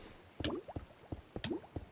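Water in a Minecraft game, heard as quiet dripping and splashing blips that come in two small clusters about a second apart.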